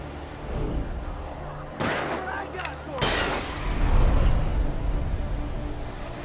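Gunfire in the PC video game Alan Wake: two sharp shot bursts ring out a second apart over a low, rumbling game backdrop.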